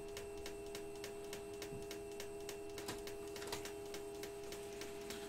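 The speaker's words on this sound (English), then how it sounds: "I'm gonna quickly just print this out so that way I can put it in the list for my records" A printer runs a record sheet through, giving a steady mechanical hum with regular rapid ticking pulses throughout, fairly faint, with no voices.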